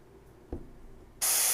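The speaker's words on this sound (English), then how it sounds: "I'm just going to kind of run around the edge here, letting the airbrush just kind of fade into it." An airbrush sprays paint around the edge of a cutout, a quiet room hum giving way to a sudden loud, steady hiss that continues to the end.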